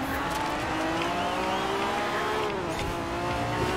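A race car in Forza Horizon 4 holding a steady engine drone, with pitch dipping slightly as it slows under braking, fairly quiet and continuous without talk.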